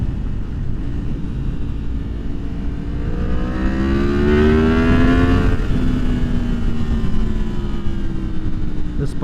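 2023 Yamaha MT-10 motorcycle with the AIS deleted on a test ride, engine note climbing steadily in pitch under wind noise, then easing off as the revs drop.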